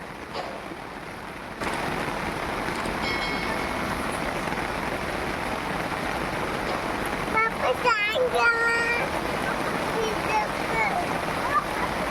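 The flooded Balganga river rushes past in a steady, loud roar of flowing water, with a short stretch of voices partway through.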